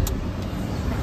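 A car engine left running idles as a steady low rumble with faint outdoor road noise, continuous and even for about a second.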